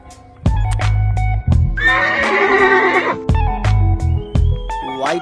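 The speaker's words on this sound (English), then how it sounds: "Red horse." A toy horse gives a loud, shrill whinny lasting about a second, framed by repeated clicking and clunking and a few short tonal beeps from the toy.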